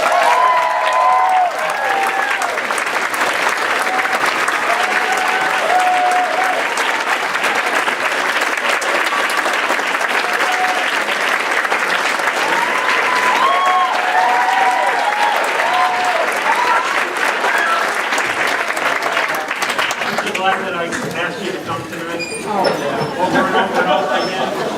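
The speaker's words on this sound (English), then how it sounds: "stand up, clap, and give him a standing ovation" A theater audience at a volunteer gala gives a standing ovation: dense, loud, sustained clapping fills the whole stretch and thins slightly near the end, where a voice briefly emerges.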